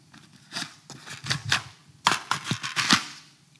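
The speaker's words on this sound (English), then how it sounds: "Changing mags." Magazines being swapped on a tactical plate carrier, a close, quiet series of sharp clicks, snaps and rustles of gear and pouches in irregular bursts, with no talking.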